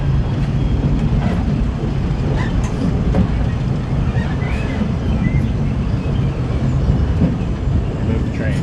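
Disneyland Railroad train rolling along its track in the park, a steady rumbling low drone with faint wind noise, continuous and close throughout.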